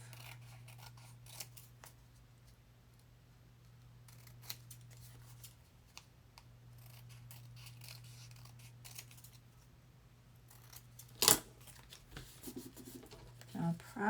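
Scissors trim through a paper junk mail envelope in short, soft snips and rubbing strokes, close up and quiet over a steady low hum, with a sharper crisp cut near the end.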